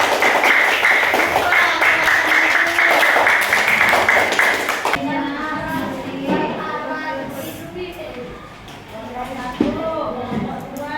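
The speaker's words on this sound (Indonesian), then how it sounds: "Ya tepuk tangan untuk kelompok" Classroom clapping for a student group after their presentation on rain, a busy patter of hands lasting a few seconds before giving way to students' chatter and scattered knocks.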